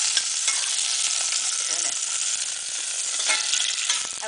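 Spanish chicken and eggplant stew cooking in a medium pot gives a steady, bright sizzle with scattered crackles and light stirring clatter, close and continuous with no talking.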